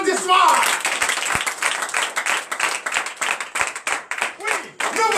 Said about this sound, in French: Papa Guy Ferriand Nkero du Gabon, sous vos applaudissements.